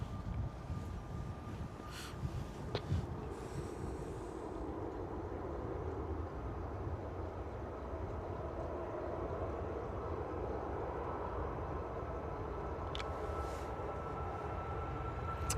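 A Ryanair airliner rolls for takeoff at London Stansted, a fairly faint but steady engine rumble building and holding throughout, with a few light clicks and no speech.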